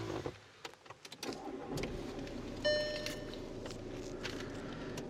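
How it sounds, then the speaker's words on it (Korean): A 2.0 diesel Volkswagen Tiguan with 200,000 km cranks and catches, settling into a steady low idle, with a soft chime and some rustling and clicks inside the cabin. "시동 한번 걸어볼게요"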